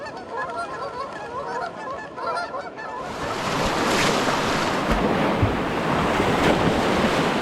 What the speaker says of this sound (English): We go from this tranquil scenery to this cacophony of geese and whitewater.